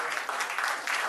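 Applause at a traditional engagement ceremony: a brief, steady burst of clapping from a crowd of guests, moderately distant.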